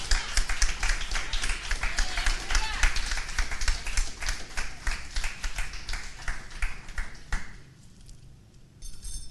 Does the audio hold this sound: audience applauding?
yes